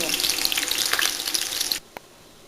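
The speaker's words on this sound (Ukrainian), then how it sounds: "Беремо моркву, цибулю і перець і висипаємо все, щоб воно жарилося на не дуже великому вогні." Carrots, onion and pepper sizzle loudly in a hot pan over moderate heat with a dense, crackling hiss that cuts off abruptly, followed by a single clack.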